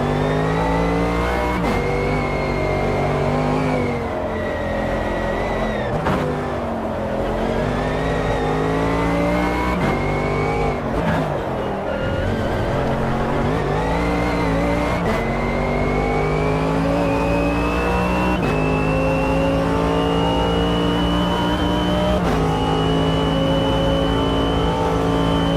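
A race car in Automobilista 2 revs hard through its gears, climbing repeatedly with a quick drop at each shift, a continuous loud engine note over a faint driveline whistle.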